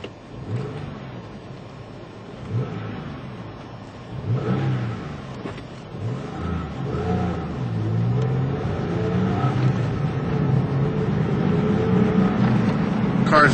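Stock Porsche 996 Carrera flat-six with stock airbox, filter and mufflers, running steadily and quietly, with a rising rev toward the end and some voices faintly audible over the engine.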